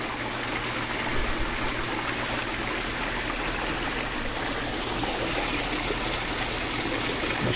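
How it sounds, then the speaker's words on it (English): Water steadily trickles and splashes through a DIY aquarium filter packed with bio-balls and driven by a small pump at a fish farm, a constant close wash of flowing water with a low hum beneath and no talking. "There's a little pump in the back."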